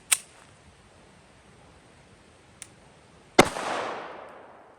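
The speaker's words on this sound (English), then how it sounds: "next up is 22 long rifle out of the Smith & Wesson 22 compact" A .22 Long Rifle round fired from a Smith & Wesson 22 Compact pistol at a bowling ball outdoors: a sharp crack at the start, a faint tap mid-way, then a louder report with a trailing hiss and rumble.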